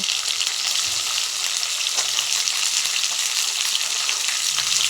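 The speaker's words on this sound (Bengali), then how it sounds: "পেঁয়াজটা দেওয়া হয়ে গেলে তোমরা পেঁয়াজটাকে একটু ভেজে নেবে" Chopped onion frying with garlic in a pan for pasta, a loud, even, close-up sizzle with faint stirring sounds, steady throughout and no talking.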